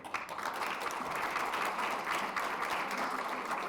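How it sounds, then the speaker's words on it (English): Audience at a disability general election hustings applauds the candidates, a steady, dense wash of clapping sustained at even loudness throughout, without any voices over it. "Give them a round of applause as well."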